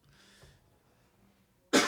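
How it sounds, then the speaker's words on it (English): A soft throat-clearing rasp and faint breathing, then a sudden loud, close cough at the end. "need to clear my throat."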